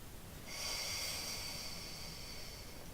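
A slow, steady in-breath during a mat exercise, a soft breathy hiss that starts about half a second in and holds close and quiet until the end.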